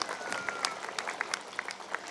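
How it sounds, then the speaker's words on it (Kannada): Audience clapping at a Kannada comedy evening show, a steady faint patter of many hands with scattered sharper claps standing out, no voices over it. "ನಿಮಗಾಗಿ ಒಂದು ಜೋರಾದ ಚಪ್ಪಾಳೆ ಇರಲಿ ಬಂಧುಗಳೇ"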